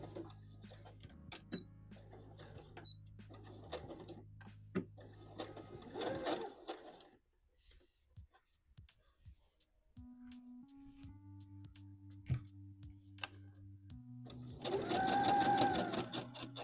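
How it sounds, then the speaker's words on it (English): A sewing machine runs in quick bursts of rhythmic stitching on a dress sleeve, stopping and starting, with quiet handling sounds and a whirring motor in between. "we are back at the sewing machine"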